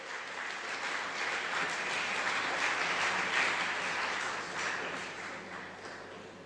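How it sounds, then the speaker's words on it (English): A conference audience at a Google Cloud community day in Bhopal breaks into sustained applause for a panelist, a dense wash of many hands clapping that swells and then slowly fades, with no speech over it. "Can we get a huge round of applause for Nimish"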